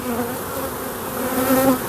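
Honey bees buzzing densely around a hive, a loud, continuous close-up drone of many wings with slight wavering pitch and no voices.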